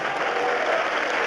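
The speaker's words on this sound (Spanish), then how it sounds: "Fuerte, que se oigan los aplausos." An audience in a church debate gathering claps together, giving a dense, sustained wash of applause at moderate distance that continues evenly throughout the short moment.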